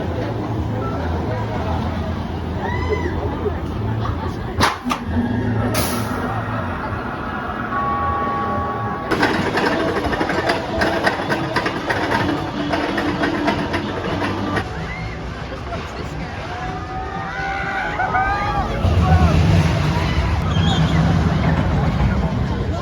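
The Demon roller coaster at California's Great America rattles and rumbles along its track, with clanks, a brief hiss and rising roar as the ride gets underway, while people talk and shout throughout.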